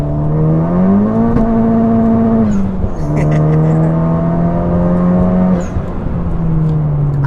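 Loud, close revving from a modified 420 BHP Honda Civic Type R FK8, the engine note climbing, holding, dipping and rising again in long smooth sweeps with faint pops between.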